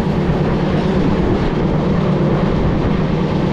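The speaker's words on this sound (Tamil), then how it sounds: "ரொம்ப நாள் கழிச்சு ஒரு பர்ஃபெக்ட் ட்ரெயின் ரைடு போயிட்டுருக்கு." Duronto express train running from Delhi to Chennai, a loud, steady rumble of wheels and carriage noise filling the whole stretch without letup, heard from on board.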